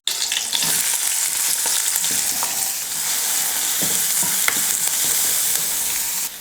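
Chopped onion fries in hot oil for an Indian egg dish with a continuous close sizzle, punctuated by occasional stirring clicks and scrapes.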